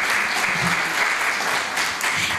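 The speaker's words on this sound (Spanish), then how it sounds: "está muy bien eso de empezar con un aplauso" Audience applause at a conference panel session, a dense steady patter of many hands clapping for a couple of seconds, fairly loud and with no talking.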